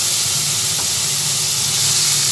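A steady, loud sizzling hiss of chopped onions frying in hot oil, continuous throughout with no voices.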